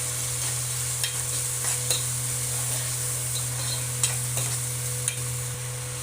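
Tomatoes with turmeric and salt cooking in a pan for a brinjal curry, giving a soft continuous sizzle with occasional light scrapes of a spoon over a steady background hum, fairly quiet and without speech.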